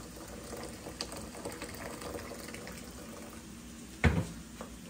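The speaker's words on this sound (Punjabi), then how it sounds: "ਪਾਣੀ ਮੈਂ ਗਰਮ ਰੱਖਤਾ ਸੀ, ਆਪਾਂ ਪਾਵਾਂਗੇ ਵਿੱਚ।" Hot water is poured over corn and peas in a kitchen. A low, quiet watery background gives way to one short, close splash of pouring near the end.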